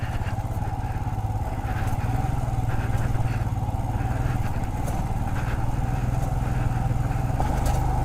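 A motorcycle engine runs steadily on a road in Ladakh, a continuous loud drone with rumbling low tones that stays constant throughout with no pauses.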